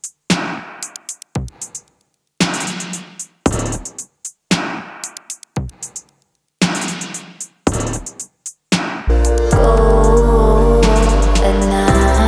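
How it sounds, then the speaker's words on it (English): A punchy drum pattern from a song chorus, with heavy kicks, snares and crashes in choppy bursts, then a sustained, dense wash of full band sound takes over near the end. "And the drums in the chorus sound like this."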